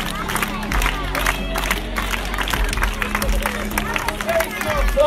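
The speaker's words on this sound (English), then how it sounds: "help me out with a bit of a clap like this" An audience at a live street performance claps in a rhythmic beat with scattered cheers, steady pulses throughout, close and fairly loud.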